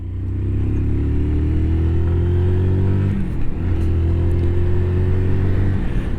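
A Zontes Mantis 125cc motorcycle engine drones loudly and steadily while riding, holding a buzzing tone that drops briefly as the revs change midway, then settles into a steady hum with road rumble beneath.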